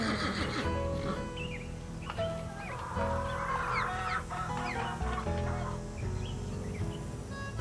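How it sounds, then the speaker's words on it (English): Chickens cluck and chatter continuously on a game's ranch, with a rooster-like call among them, over a busy ambient bed, close and steady. "Chicken."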